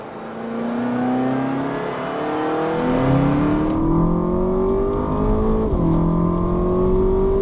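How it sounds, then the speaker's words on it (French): A Seat Leon Cupra engine revs up loudly through the gears, pitch climbing and dropping at each shift, close and continuous with no talking. "la sonorité du moteur se fait bien plus présente"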